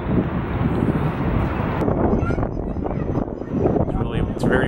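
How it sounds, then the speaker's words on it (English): Strong wind buffets the microphone in loud, rumbling gusts, with a faint voice partly buried underneath. "It's very windy."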